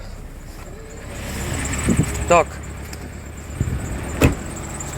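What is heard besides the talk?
car with winter tyres driving onto a dirt road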